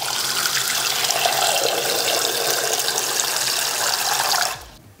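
Cold tap water runs hard into a pot for boiling eggs, a loud, steady gushing that cuts off abruptly near the end.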